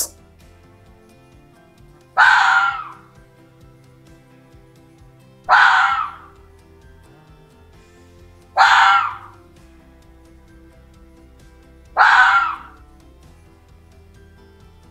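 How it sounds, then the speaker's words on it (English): A fox calls four times, each a short, sharp, high-pitched yelp or scream at evenly spaced intervals of about three seconds, loud and close against a quiet background. "Fox."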